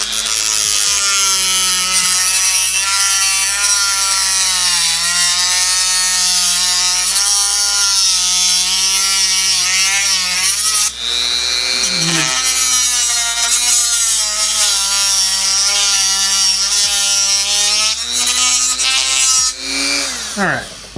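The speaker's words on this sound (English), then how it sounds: "That plastic cutoff wheel is awesome." A plastic cutoff wheel on a power tool cuts into a hand-held plastic Milwaukee PACKOUT organizer tray, giving a loud, continuous high whine with wavering pitch that dips briefly mid-cut and near the end.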